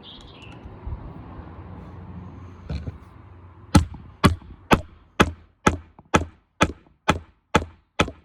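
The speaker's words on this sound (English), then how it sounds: "when we hammer it down, we'll have to really hammer it quite hard, you know, to get the leather squashed down in that area" Hammer strikes pressing leather down onto a custom motorcycle helmet: about ten sharp, evenly spaced blows, close and loud, after a few seconds of quieter handling and scraping.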